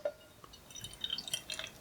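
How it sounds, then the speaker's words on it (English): Quiet beer trickles and drips into a teku glass, with soft gurgles and a light clink, close by and faint. "So we're pouring into my little teku glass."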